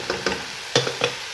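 Spoon stirring tomato paste into a pot of Moroccan harira soup, a few short scraping strokes with a light sizzle, close and alone.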